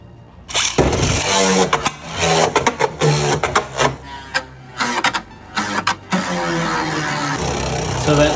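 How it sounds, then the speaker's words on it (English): Divine Belial Beyblade spinning on a stadium, its red plastic ring around the driver tip scraping loudly with a harsh, raspy grinding buzz, close up and continuous, broken by brief bumps and skips, with no voices. "that sound you're hearing is the red kind of plastic that's around the main tip on the driver"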